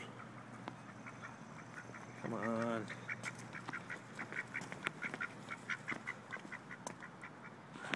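Ducks quack outdoors, one clear nasal call followed by a run of quick, repeated quacks and honks at moderate distance, with a person briefly speaking softly over them.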